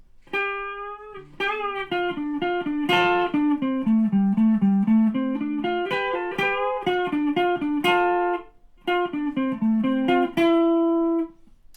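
A slow, clean electric guitar line of sustained notes with bends, hammer-ons and slides, from a song's solo, played alone with brief pauses between phrases.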